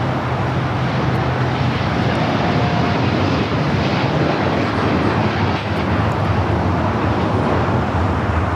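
Lufthansa airliner in the old crane livery at Los Angeles airport, a steady broad engine roar that holds loud and even throughout with no voices.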